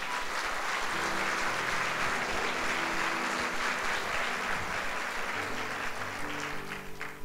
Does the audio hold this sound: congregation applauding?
yes